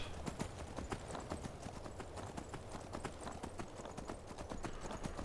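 Rapid, steady clopping of horse hooves in the video game Skyrim, continuous and fairly close, with no talking.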